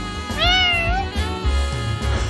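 A kitten from the video game Trails to Azure gives one clear, rising-then-falling meow close up, with some faint background noise after it.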